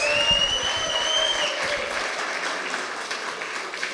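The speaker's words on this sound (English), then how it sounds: "can you give our MCs a round of applause?" A crowd applauds, a dense patter of clapping that is strongest at the start and gradually thins out, with a faint whistle or cheer early on.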